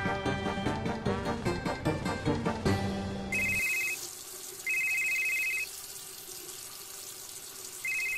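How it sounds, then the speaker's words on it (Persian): A mobile phone rings in a Persian-language comedy series set around a kitchen, a bright electronic ringtone repeating in three short bursts after a stretch of music, with water running faintly in the background. "ویکتور گوشید زنگ میزنه"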